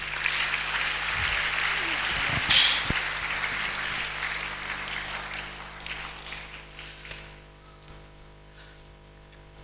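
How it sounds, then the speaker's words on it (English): Sustained applause from a seminar audience greeting a celebrated guest at an economics event, dense and steady at first, then gradually thinning and fading toward the end. "another round of applause for our global icon"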